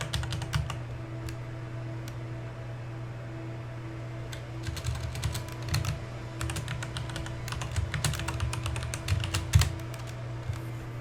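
Steady keyboard typing and tapping while entering a password at a computer, with clustered keystrokes over a constant low electrical hum, fairly close and moderately quiet, no talk.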